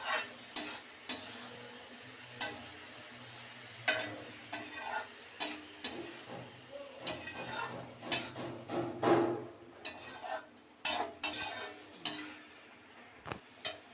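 Ridge gourd with grated coconut gets stirred in a pan, scattered scrapes and clacks of a spatula coming in uneven bursts with brief quiet gaps, over a faint low sizzle, no voices.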